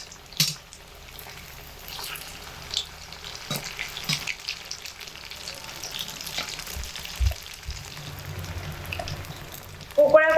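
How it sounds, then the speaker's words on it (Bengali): Semolina and potato pakoras frying in hot oil give a soft, steady sizzle with a few stirring clicks and scrapes, ending in a louder burst of activity near the close. "অপর পিঠটা উল্টে দেব, যাতে করে অপর পিঠটাও খুব ভালোভাবে ভাজা হয়।"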